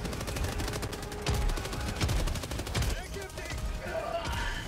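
Rapid, sustained automatic gunfire in Helldivers 2, a dense crackling fusillade with heavy periodic bursts running throughout, loud and close, with game voices and chatter partly underneath.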